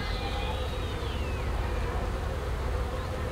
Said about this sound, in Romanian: și din nou albină multă.